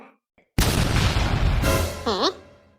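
An elephant firecracker explodes in a cartoon, a sudden loud boom after a brief quiet, its roar decaying over a second, followed by a short warbling cartoon tone effect.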